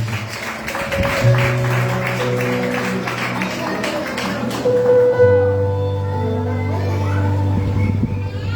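A church congregation claps in a steady rhythm, the close, regular claps running along with sustained music for the first few seconds before thinning out.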